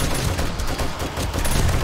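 Rapid, dense gunfire from the video game 7 Days to Die sounds continuously and loudly, shots blurring into a steady barrage with no gaps.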